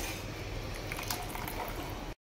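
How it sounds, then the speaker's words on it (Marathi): Water bubbles and churns at a vigorous rolling boil in a pot, a dense steady gurgling close by that cuts off abruptly at the end. "इथे बघा आता पाण्याला चांगली अशी खळखळ उकळी आलेली आहे"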